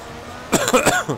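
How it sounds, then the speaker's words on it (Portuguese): A person coughs once at close range during a PC racing game session of F1 2014 at the Singapore Grand Prix, a short burst of two or three harsh bursts with quiet before it. "Perdão pela tossida"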